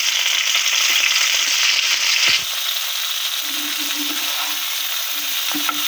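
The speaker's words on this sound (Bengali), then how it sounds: "ভেন্ডিগুলো দিয়ে ভেজে নেব" Steady, loud sizzling of okra frying in a pan, a continuous crackling hiss with a brief stir or clatter partway through.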